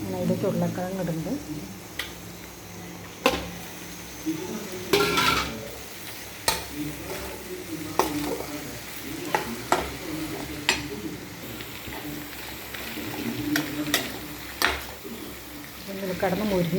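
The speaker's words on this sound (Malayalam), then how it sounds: "ഞാൻ ഇതിലേക്ക് ഉരുളക്കിഴങ്ങ് ഇടുന്നുണ്ട്." Potatoes frying in spiced oil in a pan, a low sizzle broken by the scrape and clink of a spoon stirring against the metal at irregular intervals, with a voice talking quietly over the cooking.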